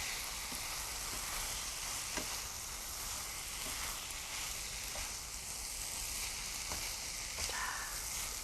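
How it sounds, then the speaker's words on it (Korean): Fresh ginseng, burdock and green pepper japchae tossed in a pan with sesame oil, a constant soft sizzle and hiss with occasional faint scrapes and taps of utensils, steady and close, without voices. "그리고 참기름 둘러주시고요. 통깨 자, 뿌려주세요. 됐습니다. 이렇게 해서 불 끄고요. 섞어주세요."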